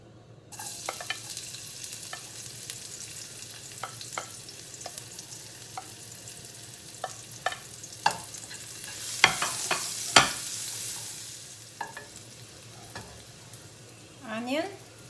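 Garlic frying in a little oil in a home kitchen for a Kapampangan biringhi, a steady soft sizzle with scattered stirring clinks and scrapes, a few louder utensil knocks near the end, no talk.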